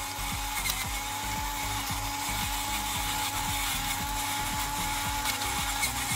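Pepper ground over thickened lasagne sauce, a close, steady rasping crunch running continuously throughout with rapid repeated grinding strokes, no talk.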